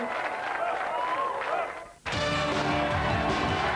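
Studio audience on the TF1 game show Millionnaire claps in a dense, sustained burst, with a brief dip near the middle before the applause swells back up, mixed with music and voices.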